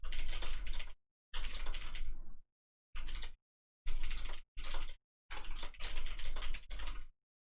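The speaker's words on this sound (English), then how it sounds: "Typing benchmark." Fast, dense typing on a computer keyboard during a typing benchmark comes in several bursts of rapid clicking. Short silent pauses separate the bursts, and the sound is close and clear.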